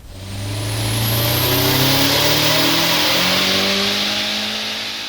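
A tuned Audi A3 with a G25 turbo revs hard on a dyno, a loud, continuous engine roar climbing steadily in pitch over several seconds before easing slightly at the end.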